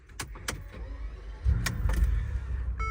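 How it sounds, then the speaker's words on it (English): Mercedes G65 AMG twin-turbo V12 idling, heard from inside the cabin as a low, subdued rumble that swells slightly midway, with a few sharp clicks at the start and no speech. "And weirdly, the V12 is a lot quieter."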